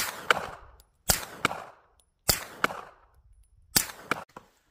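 Suppressed rifle shots outdoors, four sharp muffled cracks spaced about a second apart, each followed by a brief second report and a short fading tail, loud and close.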